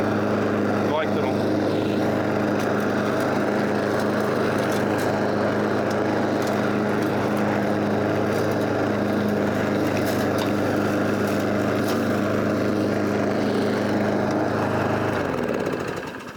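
A self-propelled lawn mower engine runs loud and steady at close range for a long stretch, then begins to wind down at the very end.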